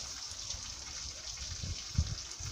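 Water runs and gushes faintly and steadily over a carpet being washed outdoors, with a soft splash near the end.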